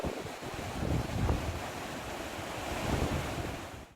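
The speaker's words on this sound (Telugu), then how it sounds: "పొంగిపొర్లిన వాగులు వంకలు." Floodwater of the swollen Godavari river surges in a steady, loud roar with broad rushing texture and gusts of wind buffeting the microphone, continuous throughout.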